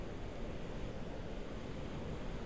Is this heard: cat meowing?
no